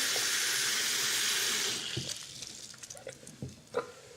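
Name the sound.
water pouring into a glass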